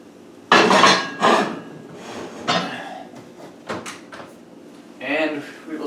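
A hot sourdough pot set back into a home oven, with heavy metallic clunks and scrapes of the pot and rack and a rattling bang, close and loud, between short pauses.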